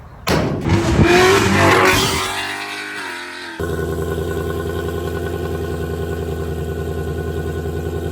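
A 2024 Mustang GT V8 with bass mufflers roars through a loud rev that rises and falls away, then settles into a steady, throbbing rumble at idle, close and loud.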